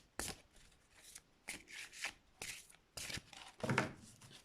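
Tarot cards being shuffled by hand in a series of short, brisk riffling bursts separated by brief pauses, close and moderately quiet, with no talking.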